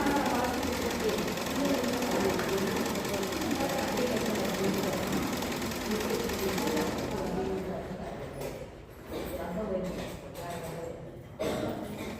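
A sewing machine stitches a blouse back piece, a steady close whirring drone for most of the stretch that thins out near the end, with someone speaking faintly over it.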